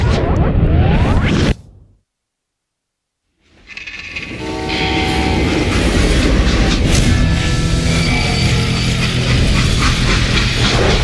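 A freight train rolls along the rails in the Call of Juarez: Gunslinger video game, a loud continuous rumble and clatter that returns after a brief silence, with a horn-like tonal layer near the end.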